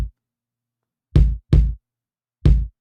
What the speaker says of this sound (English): This is what my real kick sounds like.